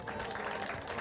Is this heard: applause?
yes